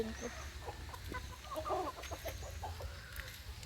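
Rhode Island Red heritage chickens clucking softly in a backyard coop, scattered short clucks and murmurs over a low background hum, fairly faint.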